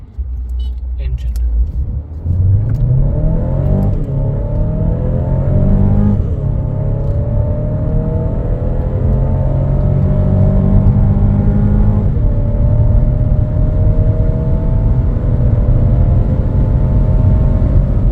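After some clicks and rustling, a 2023 Mercedes-Benz A200 hatchback's engine starts and revs repeatedly in sport mode, pitch climbing and falling in loud bursts over a steady idle rumble.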